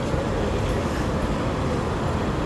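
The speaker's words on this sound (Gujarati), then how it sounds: "આ જો આ એમઆરટી છે." A Singapore MRT train at a station gives a steady, loud broadband rumble and rush that holds evenly throughout, with no voices over it.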